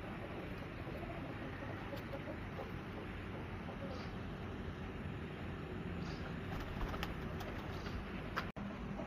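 Chapra pigeons, a pure-coloured male among them, coo softly and intermittently against steady background noise, with a brief sharp click near the end.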